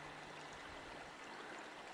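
The Chaba River running high in September after heavy rain, heard as a steady, dense rush of flowing water, continuous and even throughout with no voices.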